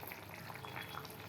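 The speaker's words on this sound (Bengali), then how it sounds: "এবারে মাছগুলো দিয়ে দিচ্ছি।" Fish goes into hot oil and fries, giving a faint, steady hissing sizzle throughout with no talk.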